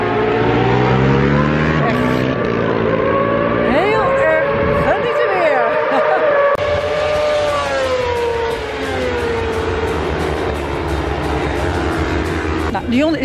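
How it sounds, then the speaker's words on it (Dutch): Loud racing motorcycle engines roar continuously at a motor circuit, with pitch rising and falling as machines pass and shift gears, under a steady high-revving drone. "Het geluid van die motoren."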